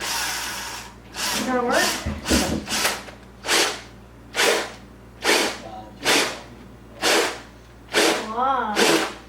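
Power drill boring into a dried bottle gourd for a birdhouse, about nine short whirring bursts in an even rhythm, with people talking between them.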